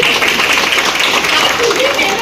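Audience applause at a prize-giving ceremony for a Gauri Ganpati decoration contest, a dense steady clapping crowd filling the room throughout with no pause.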